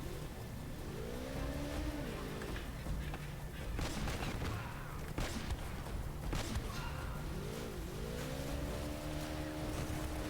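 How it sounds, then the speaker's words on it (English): Enemy gunfire in the video game Uncharted: Drake's Fortune: scattered bursts of shots break through a steady roar of engine-like noise, with a couple of rising whines and a dense volley midway. "There's a lot of dudes shooting you."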